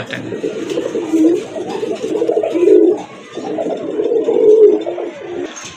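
Golden, white and blue fancy pigeons coo in low, throaty, rolling phrases, several overlapping calls close by, rising and falling in waves with no talking.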